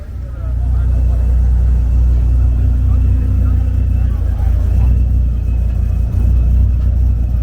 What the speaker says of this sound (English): Sounds like it's got a supercharger on it.